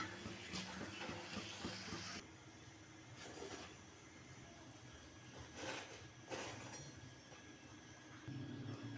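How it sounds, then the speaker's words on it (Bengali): Nan puri dough frying in hot oil gives a soft, steady sizzling hiss that swells gently at times, quiet and close with no talking. "দিয়ে আমি এখন এরকম ভেজে নেব"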